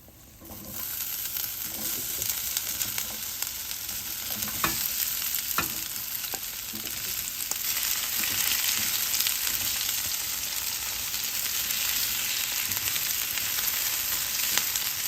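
Cubed potatoes fry in a hot pot for a vegan green chile stew, giving a steady close sizzle with occasional crackles and pops and some stirring.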